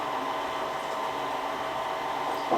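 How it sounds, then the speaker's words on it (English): A KitchenAid stand mixer whirring steadily as it blends butter into dry ingredients for shortbread cookies, a constant, close, even motor hum with no talking. "While the KitchenAid is mixing the butter with the dry ingredients"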